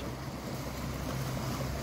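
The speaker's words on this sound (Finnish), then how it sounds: "Tuliko hienot aallot?" Sea waves wash around a boat under steady wind noise, a constant rushing swell heard close by with no voices.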